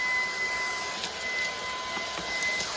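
A Ryobi 18V ONE+ cordless stick vacuum sucking up leaves, its steady high whine droning evenly throughout, with faint rustles and ticks as debris is drawn into the container.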